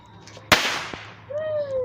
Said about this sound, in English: the fireworks guy came early today